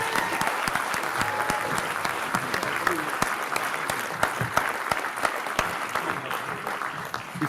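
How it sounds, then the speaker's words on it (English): Dense applause from an audience at a documentary screening Q&A, steady and fairly loud throughout with many overlapping claps and no lull. "Let's give him a round of applause."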